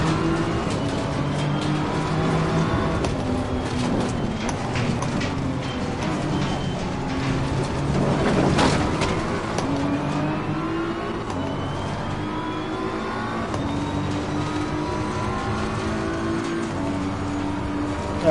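Race car engine in Assetto Corsa Competizione on PS5, droning steadily with harmonic whine rising and falling through gear changes, a brief louder surge midway, close and continuous with no talk.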